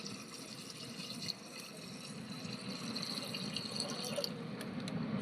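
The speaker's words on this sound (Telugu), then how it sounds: "వాటర్ పోసుకోవడమేను" Water pours into a clay pot of mutton curry cooked with ginger and shallot paste, a continuous, gentle splashing stream that grows slightly fuller as it goes, heard close and without speech.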